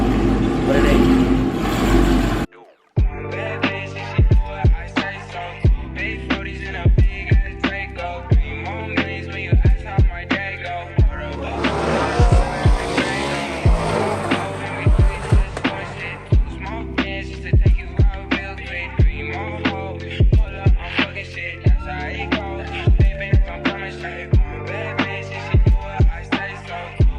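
A Dodge Hellcat with bolt-on modifications, making about 660 wheel horsepower, revving hard on a dyno: loud, close engine pulls with rising and falling pitch, repeated throttle blips and rapid exhaust pulses, after a brief opening noise and a short gap.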